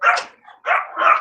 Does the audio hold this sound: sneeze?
no